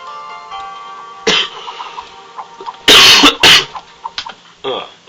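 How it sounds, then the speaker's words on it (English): Coughing from a person narrating a Tower Rush strategy game tutorial, with several sharp loud coughs clustered near the middle and smaller throat bursts scattered after, close to the microphone over a faint tonal game soundtrack. "I've still got a very annoying little cough"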